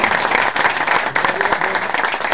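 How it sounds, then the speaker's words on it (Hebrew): Audience at a hospital gathering bursts into steady, enthusiastic applause, dense clapping filling the room with a few faint voices mixed in. "אני רוצה מחיאות כפיים סוערות"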